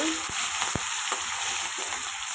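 Ginger paste fries in hot oil in a pan, giving a bright, constant hiss with a few quick tapping stirs.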